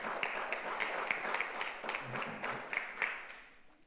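A church congregation at a Sunday service gives a brief round of applause, loose scattered clapping with distinct individual claps standing out, quiet and tapering off at the end.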